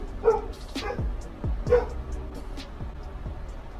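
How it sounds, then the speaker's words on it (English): A pet dog barks and yips indoors in a bedroom-style setting, a quick series of close, sharp barks with whimpery edges over a few seconds. "He chooses to bark when I start to record."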